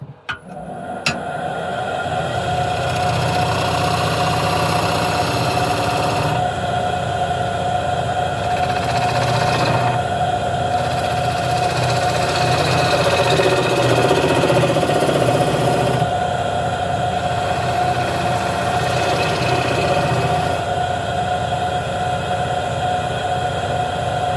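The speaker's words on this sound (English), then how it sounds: "I'm just gonna true up the tenon" A wood lathe spins a large piece of wood while its tenon is trued up, a steady close motor hum with a constant whine and shifting cutting noise that swells and fades across the span.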